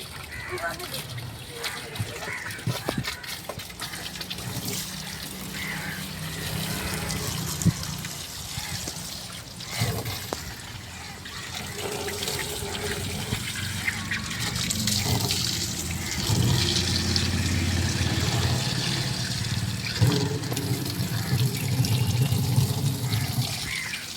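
Water runs and trickles steadily into a fish tank, with splashing and sloshing continuing alongside handling noises and some background voices.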